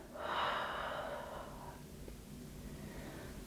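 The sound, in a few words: exhaling breath through the mouth during yoga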